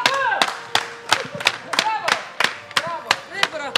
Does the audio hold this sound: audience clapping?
yes